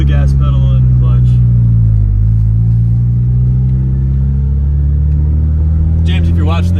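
Interior drone of a Toyota MR2 SW20 Turbo on the move, a loud, steady low engine hum with a slight dip and rise in pitch, and people talking over it at the start and end.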